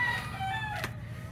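A chicken crows once, a brief harmonic call at moderate distance over a steady low background hum, with no talking.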